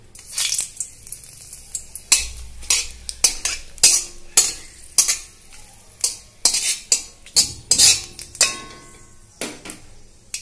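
Dried red chillies and bay leaves sizzle in hot oil for a Bengali tempering while a spoon scrapes and stirs the pan. Bursts of sizzle and sharp metallic clinks repeat throughout, steady and close, with no talk.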